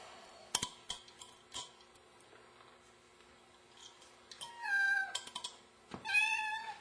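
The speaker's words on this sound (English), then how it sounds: "And here's Buddy the shop cat." A shop cat in a workshop where a Meyer E-60 is being rebuilt meows several times close by. The meows are clear and drawn out, with light handling clicks and taps between them and no talk.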